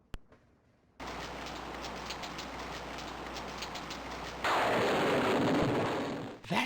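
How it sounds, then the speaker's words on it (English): Rain falling in the video game King's Quest VI starts abruptly as a steady, fine pattering hiss. Partway through it grows louder and denser, then it cuts off near the end. "It starts to rain."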